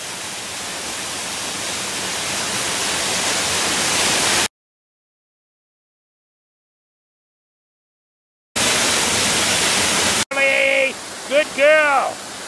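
A waterfall rushes as a dense, steady roar of broadband noise, cutting out briefly mid-recording, then returning before a dog's whines and a person's voice come in near the end.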